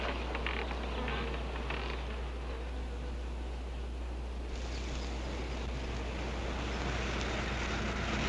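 Wasps buzzing in a field in a horror film, a continuous dense drone holding steady throughout, close and loud, with no talk over it.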